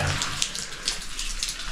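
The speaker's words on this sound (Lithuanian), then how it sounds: "Laša vandenukas." Water drips and trickles steadily inside a cave, a continuous wet splashing with no voices.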